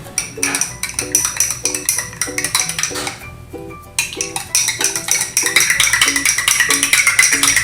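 Spoon stirring a glass of barley grass drink, a steady run of quick metallic clinks against the glass repeating throughout, with music playing underneath.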